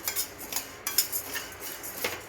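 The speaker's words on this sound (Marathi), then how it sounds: "आता ज्वारी भाजून घेऊया गॅस मिडियमच ठेवायचा" Sorghum (jowar) grains are dry-roasted in a pan over medium heat, giving soft, irregular scraping and light metallic clinks as they are stirred, close and quiet with no talk.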